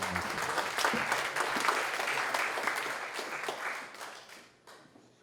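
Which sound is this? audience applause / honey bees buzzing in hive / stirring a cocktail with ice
audience applause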